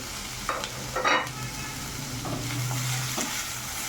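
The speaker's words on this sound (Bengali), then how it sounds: "চুলার আঁচটি হাই হিটে করে ভেজিটেবলসগুলো চিকেনের সাথে ভেজে নিতে হবে" Steady sizzling of capsicum, carrot and onion frying with chicken in a hot pan over high heat without oil, with a few scraping stirs of a utensil against the pan.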